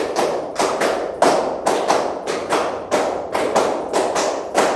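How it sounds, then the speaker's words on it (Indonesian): A classroom group claps hands in sets of five, repeated three times. The crisp, steady claps sound close and fairly loud, with short gaps between the sets and no talking. "tepuk 5 3 kali"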